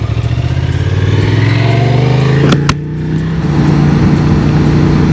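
A motorcycle cruising at 55 miles per hour with a fitted windscreen gives a steady, loud engine drone and wind roar throughout, holding a constant pitch with a brief sharp knock midway.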